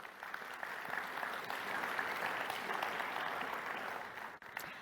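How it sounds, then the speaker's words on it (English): Audience applause at a startup demo day for a sustainability and built-environment challenge, a steady wash of clapping from a crowd, fairly distant and moderate, holding evenly before a brief dip near the end. "can we please give our 10 amazing startups a warm round of applause?"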